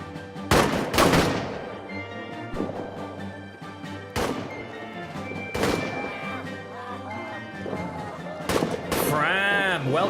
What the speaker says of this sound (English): Got these guys shooting across the side of me.